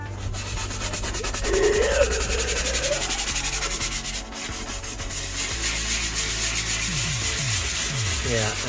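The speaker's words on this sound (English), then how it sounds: "I just couldn't help but to try to clean this little section up right here" A Chevy square body truck's interior floor gets scrubbed in steady, rough back-and-forth rubbing strokes, loud and close, briefly pausing midway before the scrubbing resumes, with no talking.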